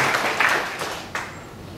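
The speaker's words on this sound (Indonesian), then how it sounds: "Tepuk tangan dulu bersama." Audience applause at a talk in a Buddhist monastery hall, a broad crackling patter of many hands that swells near the start, then thins and fades, with a final burst of claps near the end.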